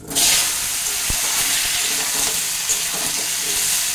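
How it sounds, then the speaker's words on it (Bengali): Cut potato, pumpkin and eggplant pieces frying in hot oil make a loud, continuous hissing sizzle that stays close, with a few faint stirring clicks. "আমি দুটো আলু, এক ফালি কুমড়ো আর একটা বেগুনকে এরকম করে কেটে নিয়েছি। এবার এটাকে আমি এই তেলের মধ্যে দিয়ে দিচ্ছি।"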